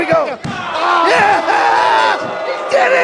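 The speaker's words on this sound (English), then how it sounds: "the crowd is totally displeased" A crowd at an independent wrestling match between two wrestlers voices its displeasure, with loud shouts and wavering calls over a dense background of noise and a sharp slam early on.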